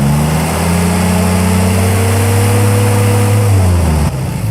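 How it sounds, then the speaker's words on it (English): A 1946 flat-fender Jeep engine held at steady RPM during a repair check, a loud, close, continuous drone with a constant pitch that dips slightly just before the end. "Check it while I'm holding RPM."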